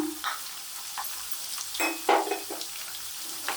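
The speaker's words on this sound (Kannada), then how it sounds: "ಎಲ್ಲ ಸೇರಿಸ್ಕೊಂಡು ಈ ಥರ ನೀಟಾಗಿ ಫ್ರೈ ಮಾಡ್ಕೊಳ್ಳೋಣ." Peanuts and curry leaves frying in a pan on high heat, a close crackling sizzle broken by several sharp scrapes and clatters of stirring, no voices.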